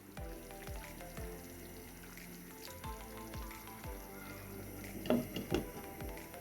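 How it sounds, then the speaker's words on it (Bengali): Biryani meat cooking in a pan gives a steady, faint sizzle and frying crackle with repeated soft clicks, plus a couple of louder clatters near the end. "বিরিয়ানির মাংসটা রান্না করে রাখতেছি।"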